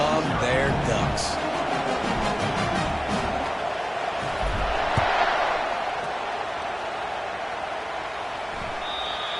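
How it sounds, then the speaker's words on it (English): Loud, steady roar of a packed Autzen Stadium crowd at an Oregon Ducks college football game against Illinois, a continuous wash of cheering with a commentator talking over it. "what a great job getting this crowd going early"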